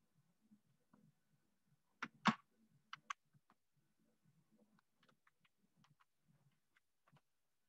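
Faint, scattered keystrokes on a computer keyboard as a password is typed, with a couple of louder clacks early on and then light irregular taps, quiet and without talking.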